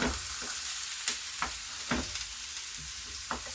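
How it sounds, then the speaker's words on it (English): Beef chuck roast searing in a hot pan for an oven pot roast, with a steady soft sizzle and a few sharp scrapes and clinks of a utensil moving the meat, fairly quiet and with no voices. "the top and the bottom of this chuck roast is gonna be seared off"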